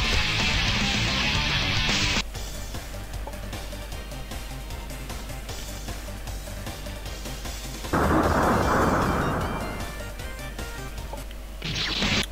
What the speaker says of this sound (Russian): меня взрыв этот убил